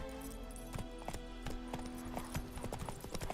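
Horse hooves clip-clopping at a steady gallop in the video game The Witcher 3: Wild Hunt, a brisk rhythmic run of close, moderately loud hoofbeats over faint game ambience.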